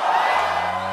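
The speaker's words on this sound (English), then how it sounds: "Here's the launch yesterday and the excitement of the crowd." A crowd cheers at a SpaceX Falcon Heavy launch, heard through a recording as a dense, loud roar of many voices, with a faint low hum underneath.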